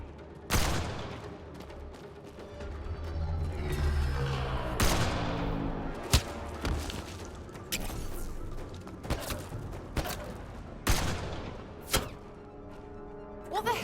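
Gunfire in the sci-fi shooter Mass Effect: Andromeda, scattered sharp shots and thuds cracking through a busy battle mix, spaced irregularly across the stretch with background rumble and music.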